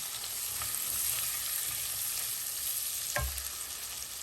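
Broiler chicken sautéing with salt in a pan, a soft continuous frying hiss with a faint scrape of the spatula partway through, fairly quiet and with no talking.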